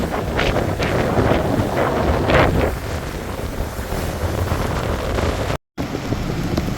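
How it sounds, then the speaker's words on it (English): Strong wind from a rain band of Hurricane Idalia sweeping the shore at St. Petersburg, Florida, with waves crashing: a loud, steady roar of gusts buffeting the microphone, with no talking. "look at this strong rain band coming in from Hurricane Idalia here in St. Petersburg, Florida"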